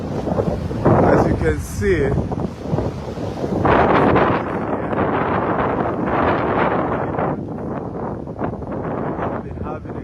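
Strong coastal wind on the island of Mauritius in the Indian Ocean roars and buffets the microphone in steady, heavy gusts, nearly drowning out someone speaking throughout.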